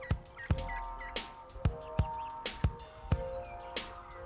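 Wild turkeys gobble and cluck while heading into a green field, amid a series of sharp, loud thumps spaced roughly every half second, with faint background noise between.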